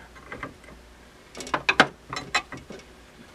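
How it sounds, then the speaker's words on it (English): A wrench tightens a nut while a CabKing 6-inch cabbing machine is being set up, giving a quick cluster of close metallic ratcheting clicks and taps, loudest in the second half. "Tighten this by hand as much as I can. Okay, get the other wrench on here."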